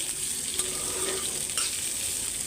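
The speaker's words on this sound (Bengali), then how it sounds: "পেঁয়াজগুলো দিয়ে দিলাম।" Onions frying in a pan for a methi egg curry, a steady close sizzle with a couple of light stirring scrapes, no voices.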